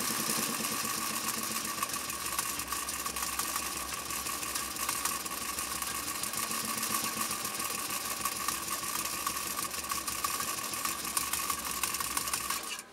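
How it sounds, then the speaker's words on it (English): A 1935 Singer 95-60 industrial sewing machine stitches through two layers of Italian leather, running a continuous loud, rapid mechanical chatter with a steady motor hum, close up and with no voices. "we're going to try sewing down this these two layers of Italian leather one more time"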